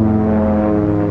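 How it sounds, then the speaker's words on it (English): Rockwell OV-10 Bronco turboprop aircraft giving a steady, loud propeller drone with strong harmonic hum, close and continuous without a break. "This small turboprop aircraft is slower, but more maneuverable than jets, faster and more versatile than helicopters."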